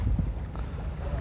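Blustery wind buffets the microphone at Sitra jetty in Bahrain during bad weather, a low rumbling roar with gusty swells, close and steady, with no voices.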